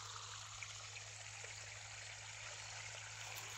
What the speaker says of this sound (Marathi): पाईपाने लावले पाणी.